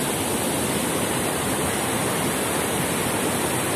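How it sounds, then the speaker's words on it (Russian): A waterfall roars as a dense, continuous rush of falling water, steady and loud with no breaks, filling the whole scene. "Вот водопад."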